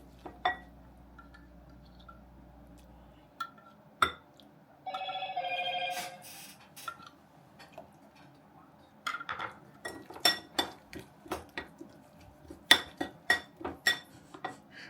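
Khmer fish amok ingredients being stirred in a bowl, with a series of light clinks and taps of utensil against the dish, scattered and irregular, in a quiet kitchen.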